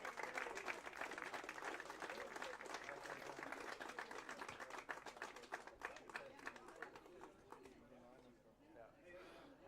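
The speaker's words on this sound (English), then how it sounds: "Give him a round of applause." Audience applause for a finalist at an open competition in Oslo, dense clapping that starts loud and gradually thins and fades toward the end.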